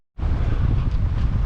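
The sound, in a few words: wind blowing on a sailing yacht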